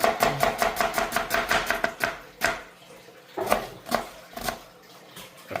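Onions being finely chopped with a knife on a board: a quick run of sharp, evenly spaced taps, then a pause and a few slower, separate chops, close and crisp with no speech.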